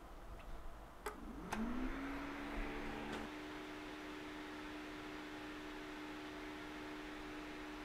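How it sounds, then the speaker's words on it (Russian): A Creality CR-10 Smart 3D printer powers on: a click and a short rising electronic tone, then a steady fan whir settles in and hums on quietly. "Думаю, уже пора оживить принтер."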